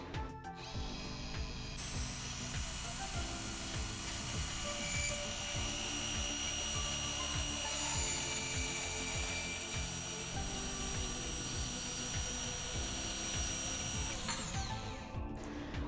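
A bandsaw in a metal shop runs steadily through metal, a continuous loud whining buzz with a grinding cutting tone that holds for most of the stretch before winding down at the end.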